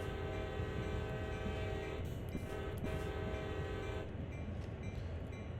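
Train horn blowing in steady sustained blasts at a road crossing in Train Sim World's CSX Heavy Haul, loud and close over the rumble of a heavy freight locomotive, with a brief gap and a cut-off near the end.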